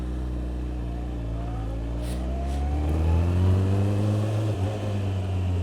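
A 2006 Kawasaki ZX14 motorcycle pulls away at the start of a test ride, its engine rising steadily in pitch as it accelerates, loud and close with a rumbling low end, no talk.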